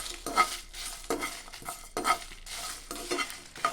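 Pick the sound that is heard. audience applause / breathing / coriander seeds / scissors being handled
coriander seeds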